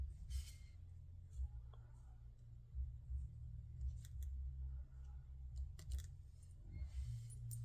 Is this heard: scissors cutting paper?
yes